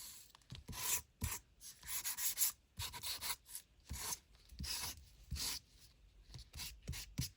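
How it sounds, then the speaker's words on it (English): Quiet, close rasping strokes of paper edges being gently sanded for a junk journal, in irregular bursts with short pauses between. "I'm just gently sanding the edges."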